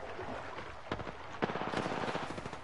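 Rapid bursts of automatic gunfire crackle through a video game firefight, dense volleys and sharp single shots stacking over a busy battle backdrop without any talking.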